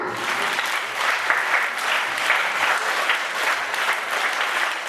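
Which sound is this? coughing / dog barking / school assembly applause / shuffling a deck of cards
school assembly applause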